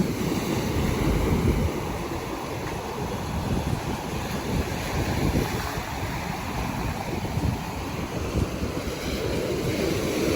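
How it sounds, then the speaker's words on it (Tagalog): Ocean waves wash steadily onto the shore near Sabang under overcast skies, a continuous broad roar close by, mixed with wind buffeting the microphone and no speech. "Pero hindi ganayong kalakas ang alon."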